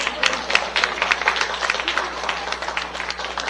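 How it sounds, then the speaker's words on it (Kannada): Applause from an audience at a Kannada community gathering staging a Yakshagana performance, as a couple is invited onstage; a dense, steady patter of many hands clapping at moderate level throughout, without speech. "ಜೋರಾಗಿ ಚಪ್ಪಾಳೆ ಬರ್ಲಿ."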